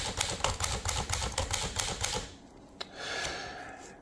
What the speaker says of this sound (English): So, if we type a few characters,